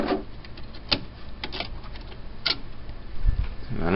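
Dot matrix printer running, giving irregular sharp ticks and short mechanical clicks over a low motor hum, fairly close.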